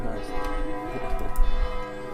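Church bells ring in a steady, tonal peal with sustained overlapping harmonics and a low rumble beneath, loud and close for a couple of seconds.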